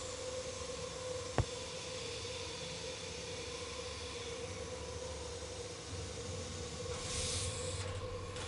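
A train runs in the video game Murder on the Orient Express. A steady, hissing rumble of rolling carriages continues the whole time, broken by one sharp click early on. A brief rush of air comes near the end.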